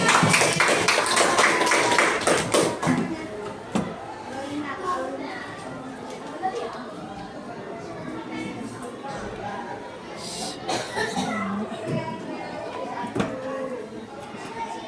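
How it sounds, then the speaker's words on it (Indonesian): Fifth-grade elementary schoolchildren clap their hands in a classroom, a burst of brisk, close claps during the first few seconds, then fading into mixed children's chatter and voices. "Tepuk tangan."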